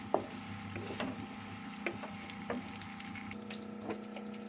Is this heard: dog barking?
no